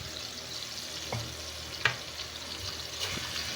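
Four whole garlic cloves fry in a pan for bagoong, a soft steady sizzle with a few light clicks of stirring, fairly quiet and with no voices.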